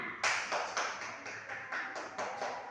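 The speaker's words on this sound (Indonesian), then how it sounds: "Tepuk tangan." A first-grade class claps in unison, a series of sharp, evenly spaced rhythmic claps at a moderate distance, fairly quiet and without talking.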